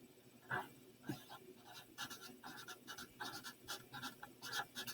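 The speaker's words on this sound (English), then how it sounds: "So now I'm going to go write that on my notes." Pen scratching across paper while notes are written, a close, quiet run of short rhythmic strokes and scrapes, with soft talk under them.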